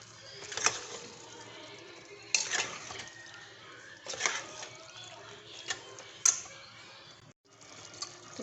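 Water pours into a pot of chicken and lentils being cooked for Indian dal, a steady splashing wash with sharper clinks and bursts recurring every couple of seconds, close and fairly quiet.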